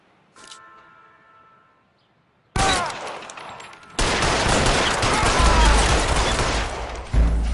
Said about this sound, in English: All units, shots fired, officer needs help